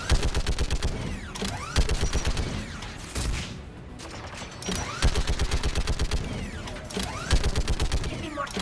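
Geth turret in the Mass Effect 3 video game firing in rapid mechanical bursts, loud and close, with short pauses between volleys and a clicking, whirring rhythm.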